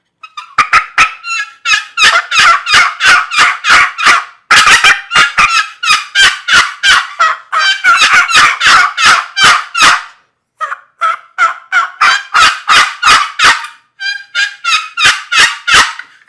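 An aluminum box turkey call mimics hens with loud, rapid runs of raspy yelps, played close up in repeated bursts with brief pauses and no talking.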